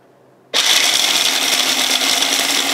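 An electric chopper grinding almonds switches on abruptly after half a second of near silence and runs as a loud, steady, high-pitched whir with a constant motor hum, close and uninterrupted, with no talking.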